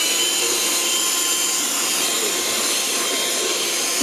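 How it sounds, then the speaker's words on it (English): Mini vacuum cleaner used for carpet cleanup during a tack strip repair, running with a steady, loud, high-pitched whine that stays constant and close throughout. "That mini vacuum, that might work."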